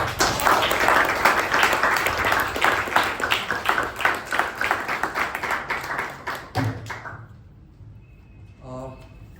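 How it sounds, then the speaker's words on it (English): An audience at a meeting claps together in a brisk, dense burst of applause that thins into scattered claps and fades out. "can we have a thunderous applause?"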